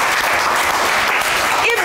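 Audience applause for doctors in Ghana, a steady dense wash of clapping that fills the short stretch at a constant loud level.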